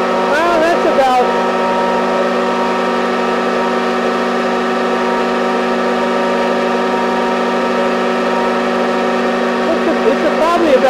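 A 30 hp rotary screw air compressor running on single-phase power gives a loud, steady drone with a strong tonal hum and harmonics, close by. Brief clatter sounds at the start and near the end, and someone talks over it.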